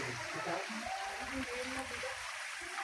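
Hot spring water pours down from higher ground in a steady, close trickling rush that fills the whole clip, with faint voices murmuring underneath.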